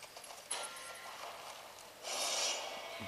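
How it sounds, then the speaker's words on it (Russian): A horse in the western game Six Guns snorts and clip-clops, a sharp burst followed by a louder breathy stretch near the end, with no talk over it. "Зачетная лошадка."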